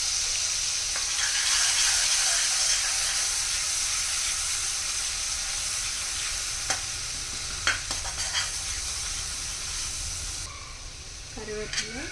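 Ground ginger-garlic paste frying in oil over low flame, a steady broad sizzle with a few scrapes and clinks of stirring, easing off toward the end, where a voice briefly comes in.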